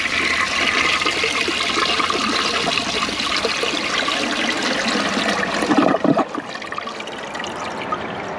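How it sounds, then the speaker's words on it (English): A 2003 Briggs Altima toilet with a worn original flush handle flushes loudly, a steady rushing roar of water that surges and gurgles near the end before settling into a quieter refill trickle. "Let's give this a flush."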